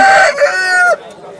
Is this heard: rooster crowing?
yes